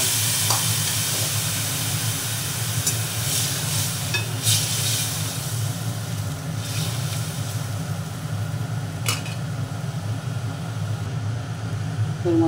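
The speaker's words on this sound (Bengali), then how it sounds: "এবার আমি তেঁতুল জল শুদ্ধ তেঁতুল এর মধ্যে দিয়ে দিলাম।" Tamarind water poured over hot mustard seeds in a pan for chutney gives a steady, moderate sizzle and hiss, with faint scattered pops and clinks over the bubbling.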